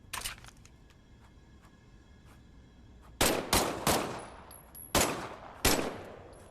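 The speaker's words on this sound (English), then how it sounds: "why don't you test fire your weapon?" Weapon test fire in the VR game Medal of Honor Above and Beyond, with a quiet lead-in followed by five loud, sharp gunshots spaced unevenly over the last few seconds.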